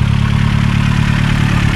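Vauxhall Corsa B with a C20LET turbo engine idling smoothly after starting, a steady loud low rumble with even pulsing and no voices.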